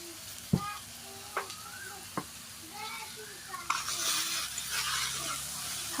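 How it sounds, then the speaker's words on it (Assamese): Pumpkin shoots frying in a pan with mustard seeds, a steady sizzle broken by several sharp spatula scrapes and stirring clinks, growing louder and busier toward the end; no voices. "সৰিয়হখিনি দি কিনে অলপ সময় ভাজিম"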